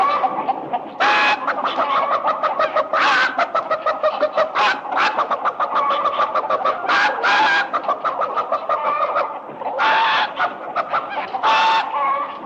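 A human voice imitates a chicken, giving a long run of rapid, close clucks in uneven bursts with a few louder squawking peaks, mimicking a hen's chatter.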